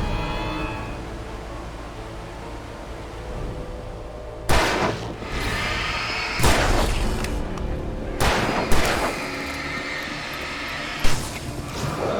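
Gunfire from the video game Alan Wake, several sharp, loud shots spaced a couple of seconds apart over a low, dark ambient background.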